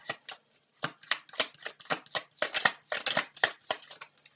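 Tarot cards shuffled by hand close up: a quick, uneven run of crisp riffling swishes and soft slaps, with short pauses between bursts.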